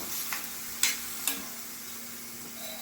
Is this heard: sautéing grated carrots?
yes